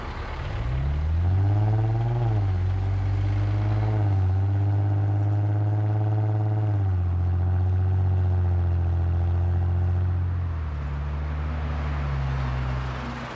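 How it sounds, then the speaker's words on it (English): A Lexus IS250/IS350 with an automatic transmission accelerates gently from first to fifth gear. Its steady, humming engine note climbs and then drops at each of several evenly spaced upshifts, heard close and alone. "Next up, slow acceleration from 1st to 5th gear."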